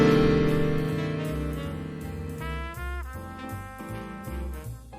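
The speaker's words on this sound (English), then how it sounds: "The minor 13th chord sounds like this." A minor 13th chord on a keyboard rings out and decays, then a series of lighter notes follows, played clearly without any voices.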